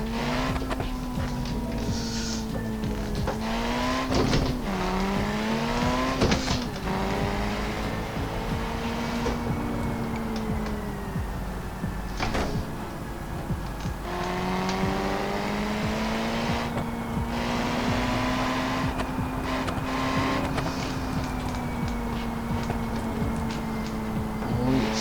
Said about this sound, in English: Turbo spooling.